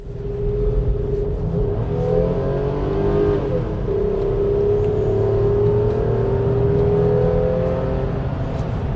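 A Lexus RX300 engine accelerating at full throttle, revving steadily higher toward the top of its rev range; loud and continuous with a smooth rising whine, heard from inside the car with no talking.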